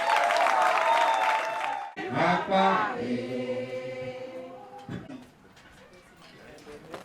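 Applause from a crowd at a women mayors' association visit in Nkongsamba, loud at the start, then giving way to voices and cooing-like tones, with talk running through.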